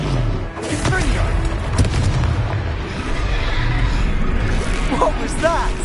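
Blasting spells hit and explode in a spell-casting combat fight in Hogwarts Legacy, with repeated booms, pops and crackling bursts over a rumbling background while voices shout during the fight.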